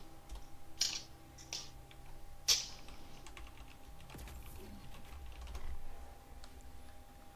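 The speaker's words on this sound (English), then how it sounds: "That's not the sound of typing on a mechanical keyboard." Keys clack on a mechanical keyboard during a Destiny 2 livestream: scattered, fairly faint taps with a couple of sharper louder strikes over low background hum, and no voices.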